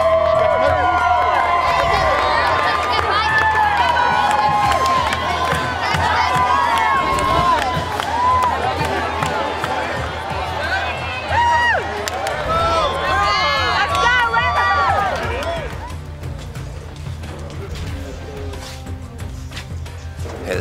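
Ole Miss fans gathering and cheering in the Grove on game day, a loud crowd of excited shouts, whoops and chatter with scattered clapping, easing off toward the end.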